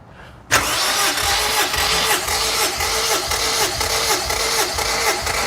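A Honda S2000 engine cranks during a compression test, a loud, close starter churn kicking in abruptly after a quiet moment and continuing as a steady, rhythmic pulsing drone with no voices over it.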